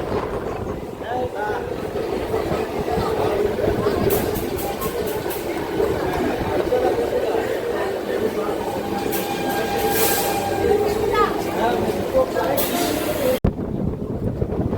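A Howrah–Panskura local train rolls into Mecheda station with a steady rumble and clatter from inside the carriage, wind noise over the microphone and faint background voices throughout.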